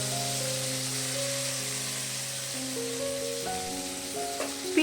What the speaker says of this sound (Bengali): এবারে আমরা যে পেস্টটা বানিয়ে রেখেছিলাম সেই পেস্টটা এর মধ্যে দিয়ে দেব।